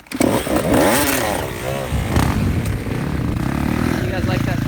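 Motocross motorcycle engine revving loudly at a training session, rising and falling in pitch as the bike pulls away, steady and close with a voice talking over the start.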